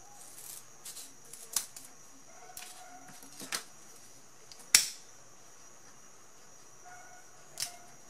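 Scissors snipping a thin paper strip while folding a small two-colour paper flower, a few sharp, quiet clicks and snips spaced apart against a soft background.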